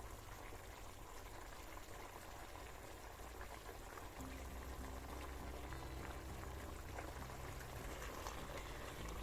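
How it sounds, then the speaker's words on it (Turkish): Capia peppers boil steadily in a pot of water for pickling, a dense continuous bubbling that grows louder and deeper about halfway through, with no voices. "15 dakika kadar kaynattım ve bu hale geldiler."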